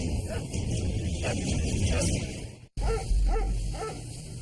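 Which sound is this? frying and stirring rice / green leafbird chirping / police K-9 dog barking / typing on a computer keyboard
police K-9 dog barking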